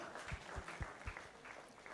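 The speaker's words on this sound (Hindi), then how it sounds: "जोरदार तालियां, come on" Scattered clapping from a group at a kids' channel launch event, a few distinct sharp claps standing out over a faint, thin background of applause.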